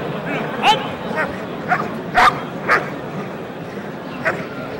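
A police dog barks in sharp short bursts during KNPV dog training at a field trial, several barks and yips at mid-distance over steady background noise and voices.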